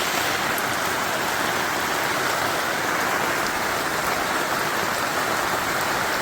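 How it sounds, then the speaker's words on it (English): Torrential downpour outdoors during fuel pump work on a 1984 Z28 Camaro, a loud, steady hiss of heavy rain pounding surfaces with no pauses or voices. "we're out here in a torrential downpour"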